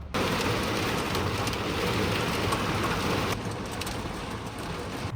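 Small hail and rain pelt a van roof during a thunderstorm, a steady dense loud patter that eases a little partway through, ending with a brief louder knock.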